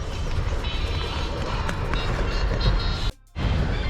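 A small children's amusement park train passes close at the station platform in Nerul, Navi Mumbai, giving a loud continuous rumble that briefly drops out near the end.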